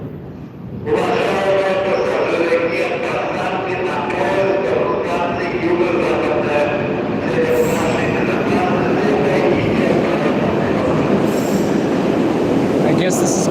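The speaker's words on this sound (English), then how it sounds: "Train is coming." A Moscow metro train rolls in with a steady loud rumble and rhythmic wheel clatter, a brief high squeal of brakes near the end.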